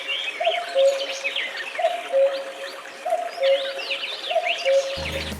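In a spring forest, a common cuckoo repeats its two-note call five times at an even, steady pace. The calls sound moderately near and ring out over a busy background of smaller birds chirping.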